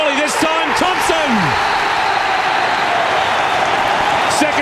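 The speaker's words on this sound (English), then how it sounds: "The crowd goes wild at Olympic Park for the Melbourne victory" Football crowd at Olympic Park erupting as Melbourne Victory score a goal, a dense, loud sustained roar of cheering and whistles, with a commentator talking over the first part.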